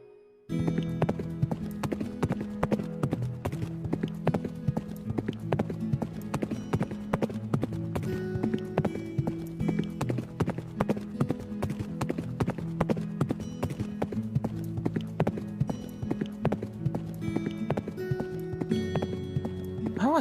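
Horse hooves clip-clop in a steady, regular rhythm throughout a ride, sounding close and continuous under a layer of tonal background music.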